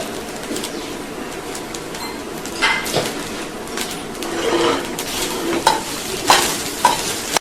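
Cooked rice being stirred through in a pan for coconut rice, a festive prasadam, with a steady low sizzle under repeated scraping and spoon strokes that grow louder toward the end, close by with no talking.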